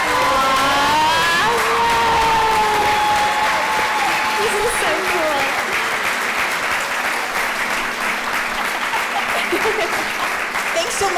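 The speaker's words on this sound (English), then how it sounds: "let's give them a big send-off, a big round of applause" A large audience at a Sunday keynote event gives loud, sustained applause mixed with some cheering, with a voice briefly audible over the clapping at the start.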